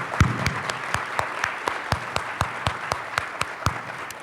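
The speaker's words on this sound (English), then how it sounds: "So I'd like to give a warm round of applause for those sponsors" An audience at a creative placemaking summit applauds the sponsors, a room of steady hand clapping with crisp individual claps popping out near the front, no talking over it.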